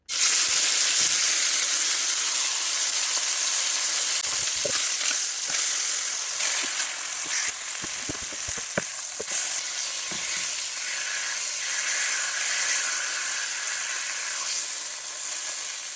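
Raccoon meat dropped into hot olive oil in a pan sizzles loudly at once, then settles into a steady hiss and crackle with scattered pops and spatters, close up and alone.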